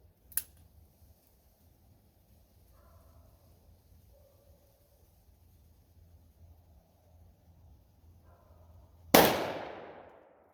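A Ruger Alaskan revolver fires one .45 Colt +P round at an outdoor chronograph setup: a single sharp, very loud blast with a ringing decay near the end, after a long quiet stretch and a faint early click.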